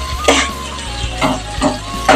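Onions fry in a pan over a medium flame for Bengali chicken kosha. A spoon scrapes through them in repeated, rhythmic strokes over a soft sizzle and a low background hum.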